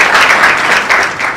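A large audience applauding at a women's award ceremony, a dense, steady wash of clapping that stays loud and even throughout with no voices on top.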